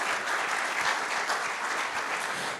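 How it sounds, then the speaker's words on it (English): An audience claps loudly and continuously, a dense wash of applause from many hands that holds steady throughout. "One more round of applause for the incredible David Downs."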